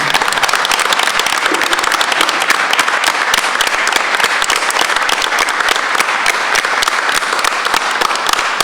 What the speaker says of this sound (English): Let's all give a round of applause for HMS Student of the Month, Kimura Diaz.